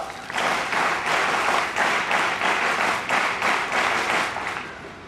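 Sustained, dense applause from a large audience at a state award ceremony for a 2005 Rajya Puraskar rally, with a loosely pulsing rhythm that swells and eases for about five seconds, loud and close.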